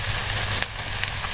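Whole cumin seeds crackle and sizzle in hot oil with chopped onion, green chilli and garlic in the pan, a steady close bright hiss with a couple of soft pops and no talking.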